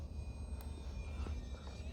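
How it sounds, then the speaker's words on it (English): A fast micro RC Cirrus SR22T-style model plane flies overhead, its small electric motor giving a faint, thin whine that drifts in pitch against breezy outdoor background noise. "Great flyer, but it's a fast plane."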